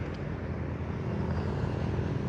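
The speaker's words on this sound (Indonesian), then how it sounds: "ini ada alat, ini namanya drone ya" An agricultural drone hovering over rice paddies for crop spraying gives off a steady, loud propeller drone. It holds a constant whirring hum throughout, with no talk.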